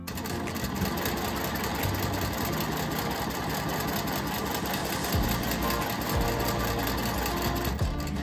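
Sewing machine running steadily during free-motion quilting, a continuous close mechanical whirring with slight speed changes from the foot pedal.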